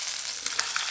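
Hot barbacoa beef brisket sizzling, a bright, steady frying hiss close up with a few small crackles and pops, lasting under a second.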